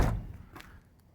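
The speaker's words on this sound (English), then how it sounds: "and I close this door" A car door on a T-top car shuts with a single dull thump at the start, followed by a faint rattle as the sound dies away.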